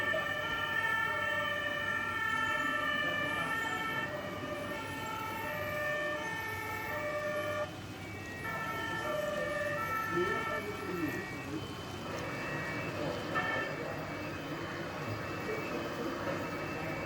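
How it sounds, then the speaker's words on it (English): Fire engine sirens wail from toy emergency vehicles on a large miniature model railway layout, several overlapping tonal sweeps under a busy crowd murmur, moderately near and sustained throughout. "Lots of sirens."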